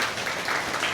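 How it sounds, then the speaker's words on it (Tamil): Audience clapping in thanks for temple staff and ceremonial musicians at a Tamil pattimandram speech event, a steady wash of applause throughout this short moment. "அவங்களுக்கு தான் நம்ம கைத்தட்டி நன்றி சொல்லணும்"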